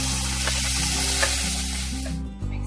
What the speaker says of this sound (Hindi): पैन में हम ऑयल गरम कर लेंगे, अब इसमें हम पेस्ट डालेंगे जो हमने ग्राइंड करी है